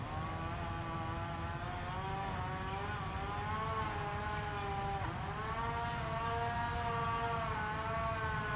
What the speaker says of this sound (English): Someone's running a chainsaw.